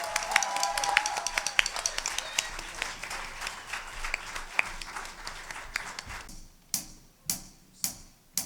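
Audience applause greets a gospel choir at a Christmas charity concert, dense clapping that thins out and gives way to a few slow, sharp rhythmic claps near the end.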